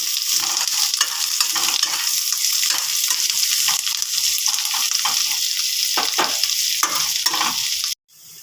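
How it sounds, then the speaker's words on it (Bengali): Chopped green chili and onion fry in hot oil with a bright, close sizzle and repeated stirring scrapes of a spatula against the pan, steady throughout before cutting off abruptly near the end. "ওই তেলে আমি লঙ্কা কুচি আর পেঁয়াজ কুচিটা একটু ভালো করে ভেজে নেব"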